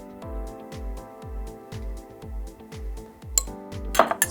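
Soda ash stirred into avocado dye in a pot: a steady, rhythmic scrape-and-knock of a utensil circling the pot, about eight even strokes, close and clear, ending in a few brighter clinks, with no voices.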